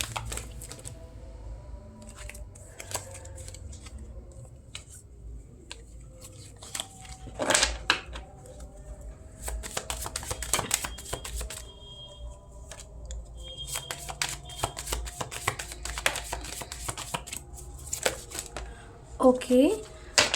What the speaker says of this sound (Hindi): Let's do the shuffling.